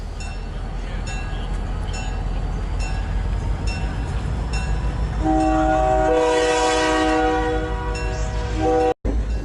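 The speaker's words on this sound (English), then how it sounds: "number 2530 starts to pull this train out of the station" A train hauled by locomotive number 2530 rumbles as it starts pulling out of a station, then its horn sounds a long, loud multi-tone blast near the end.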